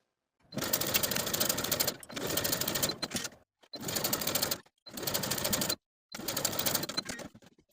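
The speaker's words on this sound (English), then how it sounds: "using a stretch stitch on my sewing machine, I'm going to sew the sides of these pockets" A sewing machine runs a stretch stitch in five rapid whirring bursts, each a couple of seconds long with brief pauses between, close and clear, sewing pockets to a dress side seam.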